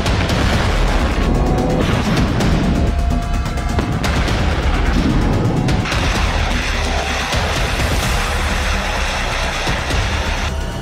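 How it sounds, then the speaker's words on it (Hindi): Missile strikes and explosions pound Kyiv in wartime: loud, dense booms and crackling bursts roll on continuously, layered with rapid banging and rumbling. "इसी प्लान के तहत कीव पर धुआंधार मिसाइलें बरस रही हैं।"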